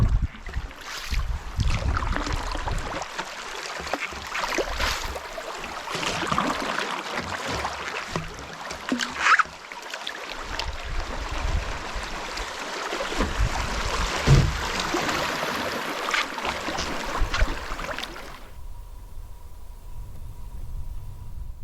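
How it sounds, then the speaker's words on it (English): A solo canoe moves down the Lady Evelyn River in Temagami, with soft paddle strokes and water swishing past the hull under a tailwind, wind buffeting the microphone, steady and close until it cuts to near silence at the end. "A great time paddling down the Lady Evelyn right now."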